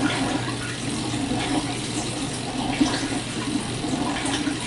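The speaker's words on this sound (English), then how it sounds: "And the sink drain is making this noise." Washer drain water pours steadily into a kitchen sink's garbage disposer, a continuous splashing, gurgling rush close by with no talking.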